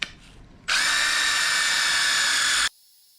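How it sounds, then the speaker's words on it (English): A cordless drill fitted with a small scrubbing brush whirs steadily on small wet tile and grout, a loud high-pitched buzz starting after a brief pause and cutting off abruptly after about two seconds. "We're going to take our drill brush."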